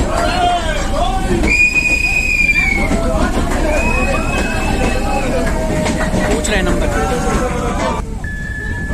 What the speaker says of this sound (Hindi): घुमावदार रास्तों से छूटती है और ये हमारी ट्रेन सुरंग में